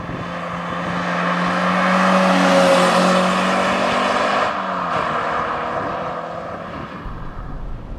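Close and loud, a Peugeot 306 GTi 6 drives a bumpy road with a sustained engine drone and road roar. The note swells and then eases slightly as the car moves along.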